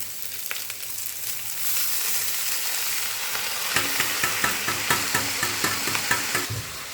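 Cooked rice is stir-fried in a hot karai, sizzling steadily while a spatula scrapes and taps in a regular rhythm through the second half.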